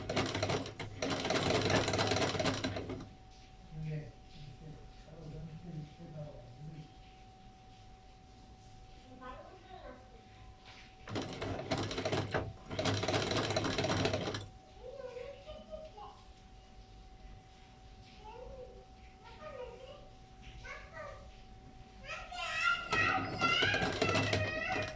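A sewing machine stitches folded fabric in several loud bursts of a few seconds each, with quieter gaps between where a person talks.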